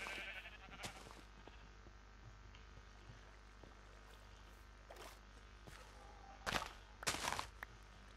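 Sheep bleating in the video game Minecraft, a couple of short, close bleats near the end over a quiet, steady background hum.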